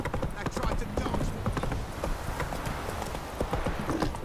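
Roach, a horse in The Witcher 3, gallops with rapid, steady clip-clopping hoofbeats close by, layered under game voices and background ambience.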